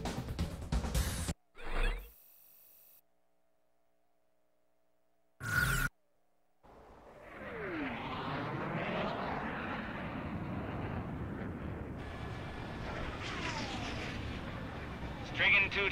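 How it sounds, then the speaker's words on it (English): Jet fighters from Ace Combat 6 roar into takeoff, a rising engine whoosh swelling and sustaining loud for several seconds after brief bursts of radio voice and a quiet gap, with game music layered in toward the end. "Garuda team, time to take off."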